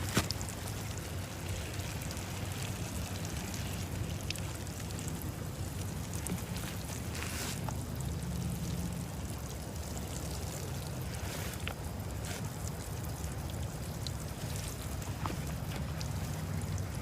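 Water pouring onto plants in a garden planter box, a continuous even splashing hiss that lasts throughout, loud and close, with no talking.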